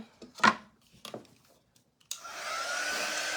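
A hair dryer blows on a sticky craft project with a transfer backing: a few light knocks and handling sounds come first, then a steady, close rushing airflow starts about two-thirds of the way in and holds to the end.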